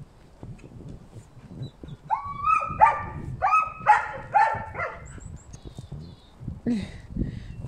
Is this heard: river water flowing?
no